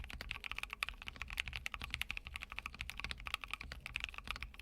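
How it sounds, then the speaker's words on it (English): Rapid, steady typing on a Keychron Q6 Max full-size mechanical keyboard with red linear switches, close and clear with dense clacking keystrokes and no voices. "Here's how these red switches sound."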